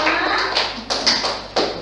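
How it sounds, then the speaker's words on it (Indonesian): Applause for a student group in a high school classroom: a few short bursts of clapping, close and fairly loud, each swelling and fading within about two seconds, with no voices over them. "Ya, tepuk tangan untuk kelompok 5."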